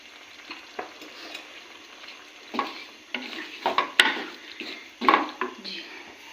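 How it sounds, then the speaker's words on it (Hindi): Minced keema for aloo keema fries in oil over raised heat, a soft sizzle broken by irregular scraping and clattering stirring strokes against the pan, fairly close. "अभी हम इसमें इसको 1 से 2 मिनट अच्छे से ऐसे ही इसमें भुनाई करेंगे ऑयल में"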